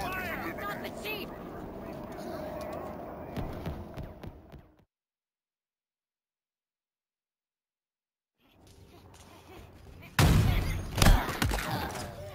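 Gunfire in a Halo Infinite battle, bursts of shots and thuds mixed with engine rumble and speech, broken by a few seconds of complete silence before a loud, close volley returns.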